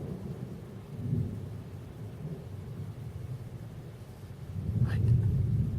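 Thunder from a nighttime thunderstorm rolls as a low, continuous rumble that swells louder near the end, with rain hiss in the background.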